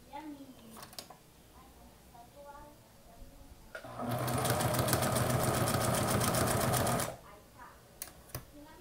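A Singer Precisa domestic sewing machine stitches in a steady, loud rapid whirr for about three seconds, with a person speaking before and after.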